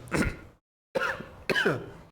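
Three rough coughs, one alone and then two close together after a short silence, close to the listener.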